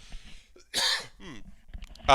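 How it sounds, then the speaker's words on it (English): A short throat-clearing cough bursts out between quiet stretches, close to the mic, followed by another sharp cough at the end. "I'm going to cough."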